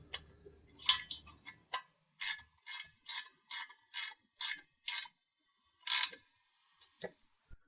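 Set screws being snugged down on a truck rack crossbar, a series of about a dozen evenly spaced, crisp ratcheting clicks up close, with a few softer taps trailing off at the end.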